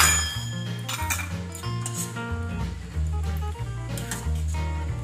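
Dal served into dishes at home, with metal utensils and plates clinking in light, irregular taps and chinks, close and fairly soft, with faint background hum.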